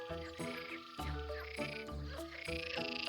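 A frog croaking close up in a series of loud, rhythmic, throaty calls, each one a rasping pulse repeated several times in quick succession.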